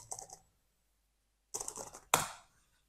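Keys clack on a computer keyboard while a slide title is typed: a short burst of taps, a pause of about a second, then another cluster ending in a sharper, louder strike, close and dry.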